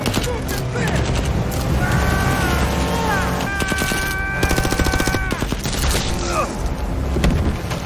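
Rapid bursts of gunfire in a zombie film scene crackle in loud, dense volleys, mixed with tonal cries or shouting and other action noise throughout.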